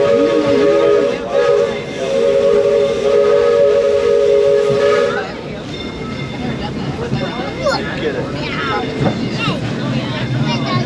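Loud sustained steam whistle of the Disneyland Railroad steam locomotive for about five seconds, then giving way to softer rolling train noise and hiss while a narrator talks.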